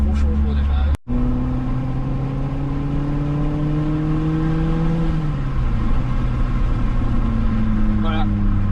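Renault Clio 16S engine humming in a steady, loud, close drone whose pitch climbs gradually, then drops back around the midpoint and holds steady again.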